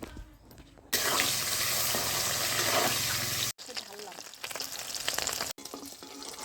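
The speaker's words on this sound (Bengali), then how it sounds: "তেল গরম হয়ে গেছে, সমস্ত ডিমগুলো একে একে ভেজে তুলে নেব।" Eggs coated with salt and turmeric fry in hot oil in a kadai, giving a loud, dense sizzle that breaks off abruptly a few times and then resumes close by.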